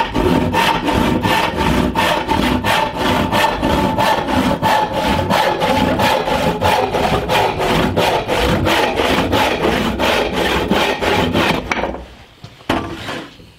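A 10-point-per-inch hand saw cuts a 6-inch piece off a wooden board for a mallet head, with rapid, even back-and-forth strokes rasping close and loud, then slowing and stopping as the piece comes free.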